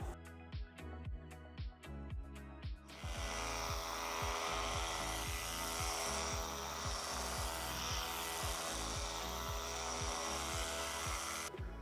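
Rapid back-and-forth rubbing of 2000-grit sandpaper across a car headlight lens during restoration, a steady raspy scrubbing that goes on without a break after a few short strokes, close and loud, with no talking.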